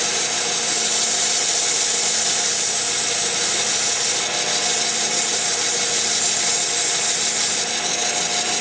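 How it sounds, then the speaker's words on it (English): A pen blank being sanded with 150 grit sandpaper, giving a steady, loud, continuous abrasive rubbing hiss that holds without pause. "most of our final shaping work is going to be done with our 150 grit sandpaper that we have here"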